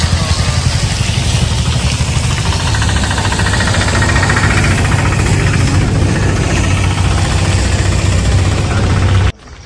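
A water tanker truck engine running at night, a loud steady diesel rumble with a rapid knocking pulse that holds throughout and then cuts off abruptly at the very end.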